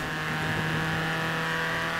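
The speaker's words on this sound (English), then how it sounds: "gotta listen to your engine" A Ford Fiesta with what is thought to be its stock engine in the Forza Horizon 4 racing game holds a steady, loud engine drone at high RPM, continuous and unbroken throughout.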